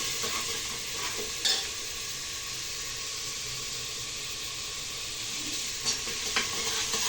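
Tomatoes fry in a pan for an Andhra-style ridge gourd gojju, giving a soft, steady hiss punctuated by a few sharp scrapes and clinks of stirring.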